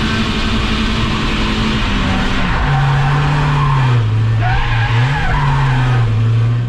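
A BMW E36 1.8is drifting in third gear, its tires skidding in a loud, continuous squeal with the engine note wavering as the car slides and corrects.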